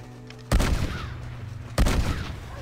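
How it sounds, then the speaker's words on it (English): Two heavy blasts from a pump-action shotgun in the game Red Dead Redemption, spaced over a second apart, each a sharp loud boom trailing into a rumbling decay. "Pump action shotgun"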